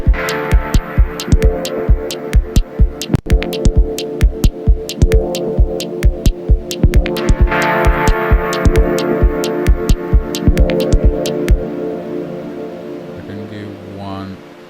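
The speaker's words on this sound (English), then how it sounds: "A big feedback." Dub techno chord stabs with delay feedback in Ableton, rhythmic pulsing hits repeating steadily then smearing into a sustained echo tail that fades near the end.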